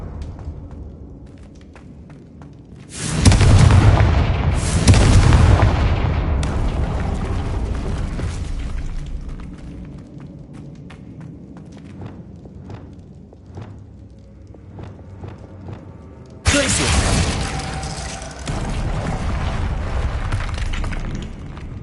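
Two booming blasts from a Confringo fire spell in a Hogwarts video game burst out well apart from each other, each a sudden loud roar that tails off into a rumbling decay over quieter game ambience.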